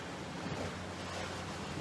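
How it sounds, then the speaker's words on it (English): Ocean surf on the shore of Magnetic Island, looking toward Townsville, rolls as a steady broadband wash mixed with wind buffeting the microphone, with no voices present. "So if you can hear crashing waves in the background, that is what is going on."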